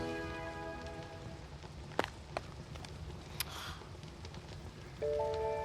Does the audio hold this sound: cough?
no